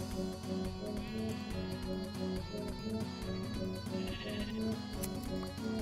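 Sheep bleating in a Minecraft-style video game, heard against dense, steady game music that fills the whole clip without pause.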